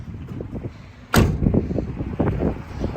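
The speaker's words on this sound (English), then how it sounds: "Door shuts good." An older car with a 454 engine has its door shut with one solid, close thump partway through, surrounded by quieter handling and movement noises.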